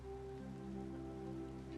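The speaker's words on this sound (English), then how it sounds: "That's so nice that we're getting rain." Rain falls in the survival video game Planet Crafter, a faint continuous patter layered over a low droning in-game ambience.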